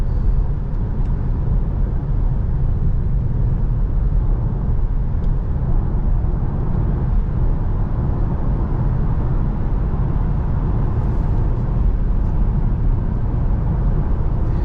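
Steady low tire and road rumble inside a 2023 Citroen C5 Aircross plug-in hybrid driving at night, a constant even drone with no voices.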